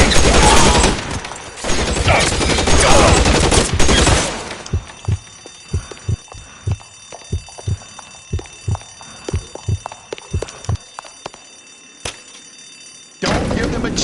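Gunfire in a PS4 video game, dense bursts of shooting at the start and end with a stretch of scattered single shots and thuds in between, loud and close.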